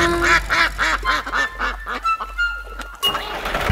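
Cartoon-style duck quacks in a French children's farm song, a rapid run of honking quacks repeated rhythmically over light music, loud and close, with no talking.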